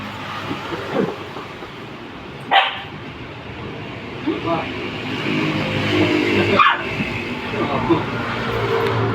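A dog barks a few sharp times at irregular intervals over a steady background rumble, with people talking throughout.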